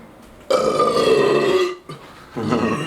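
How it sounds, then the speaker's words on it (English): A loud, close burp, one long drawn-out belch with a brief pause and then a second shorter burst. It stands alone with no talk over it. "At some point I'm gonna need a burp."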